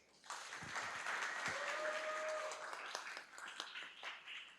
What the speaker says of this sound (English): round of applause for all of this year's applicants and finalists